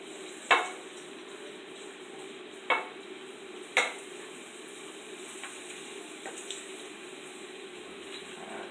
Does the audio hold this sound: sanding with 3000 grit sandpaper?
no